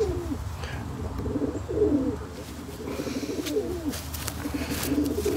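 A racing pigeon coos close by in repeated soft, throaty rolling phrases, a few seconds apart, over a low background hum with faint rustling.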